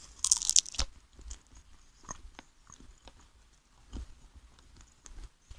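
Close, quiet crunching and chewing of lumpia that has lost some crispness, a loud crisp bite at the start followed by soft irregular chews and small mouth sounds.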